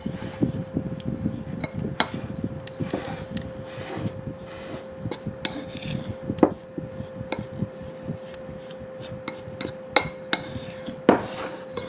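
Flour is mixed in a bowl for an apple pie, with steady scraping and clinking of a utensil against the bowl and scattered sharper knocks, close and fairly quiet, with no voices.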